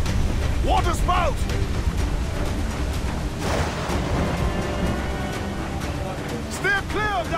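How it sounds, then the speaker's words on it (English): A storm at sea around a water spout in the video game Assassin's Creed IV, a continuous roaring wash of wind and waves under shouted crew voices, with a heavy rumbling swell midway. "Water spout!"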